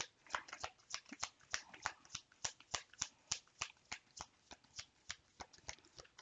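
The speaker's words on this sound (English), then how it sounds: "Two more shuffles here." A deck of tarot cards is shuffled close up in quick, crisp riffling bursts that repeat in an uneven rhythm for several seconds, with no talking.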